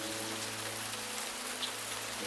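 Steady rain in the visual novel Cupid Parasite, a constant dense hiss of falling drops, even and unbroken throughout at moderate loudness, with no talking.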